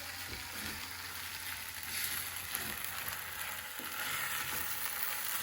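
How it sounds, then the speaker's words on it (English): Rice sizzling and frying steadily in a pan with tomatoes, onions, cardamom and ginger, a close, continuous crackle with occasional stirring scrapes. "I'm going to cook this rice just for a minute."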